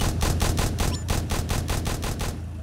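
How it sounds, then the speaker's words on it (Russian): An airplane firing in the Roblox game Tower Defense Simulator: a rapid, evenly spaced burst of about a dozen loud machine-gun shots, close and dominant with no talk. "Здесь самолет пострелял."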